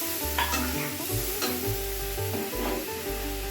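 Spice paste and ground spices frying in hot oil for a Bengali festive-style dish, a steady close sizzle with rhythmic stirring scrapes, no talking.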